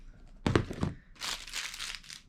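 Plastic takeaway bags and packets are crinkled and crumpled close by in two bursts of sharp rustling, the second brighter and crackly, with no talking.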